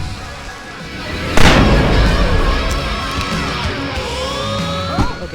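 A flashbang grenade in Alan Wake Remastered goes off with a sudden loud broadband burst, then a long ringing, crackling tail over a dense game soundscape, with a smaller thump near the end.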